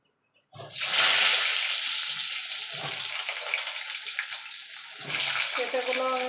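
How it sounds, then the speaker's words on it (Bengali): Papaya pieces for a chicken curry fry in hot oil after a brief silent start, giving a loud, continuous hiss and sizzle close up that swells again near the end. "এইভাবে পেঁপেগুলো ভেজে নেব।"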